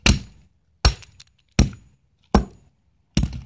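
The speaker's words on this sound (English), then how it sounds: "we're gonna crush two rocks at the exact same time" A heavy sledgehammer crushes two rocks at once outdoors, landing five sharp, loud impacts at a steady interval of about 0.8 seconds, each a cracking smash followed by brief scattering debris and silence.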